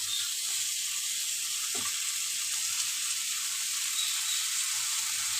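Drumstick and potato pieces fry in a pan for a Bengali fish curry, giving a steady, even sizzle close by, with one brief stirring scrape and no talk.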